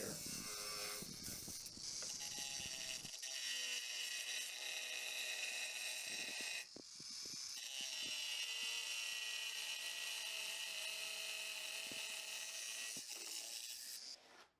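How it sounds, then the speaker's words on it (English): Angle grinder slicing a circular cut into floor material around a drain fitting while tiling a chicken and duck coop, a loud sustained high-pitched whine with a brief dip midway, then resuming steadily until cut off. "And then he cuts the edge of that with"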